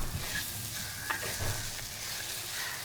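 Tomatoes dropped onto sautéed onions in a pan for Kerala chicken curry, a close, steady frying sizzle with a few stirring scrapes and small clinks.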